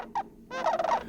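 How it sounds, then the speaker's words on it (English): A sandhill crane gives a warning call in a marsh, with two quick rattling, gobbling bursts, short and fairly faint, sounding alone without voices. "a sandhill crane, singing out a warning with her peculiar call"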